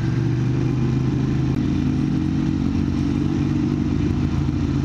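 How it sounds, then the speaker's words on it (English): A motorcycle engine drones steadily nearby, a low rumbling hum with some clatter, holding roughly even throughout. "Motorcycle."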